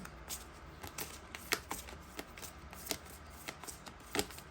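Tarot cards are shuffled in soft, quick riffling bursts, quiet and close, with no one speaking.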